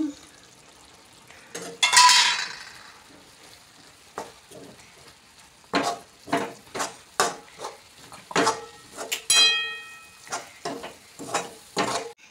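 Gram flour being stirred into capsicum and green chillies frying in a pan, with a burst of sizzling and then a series of scraping, clinking spoon strokes against the metal at an uneven rhythm.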